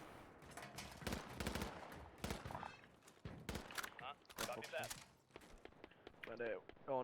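An SMG fires in the PUBG video game in sharp bursts of rapid shots scattered through the clip, mixed with voices talking over the gameplay.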